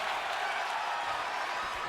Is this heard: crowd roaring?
yes